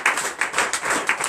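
A congregation claps in a quick, steady rhythm during a morning prayer service in Comè, Benin. Sharp, close claps repeat several times a second with no voices over them.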